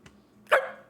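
A man imitates a dog with a single short, loud bark-like yelp, preceded by a faint brief vocal sound, with no other talk.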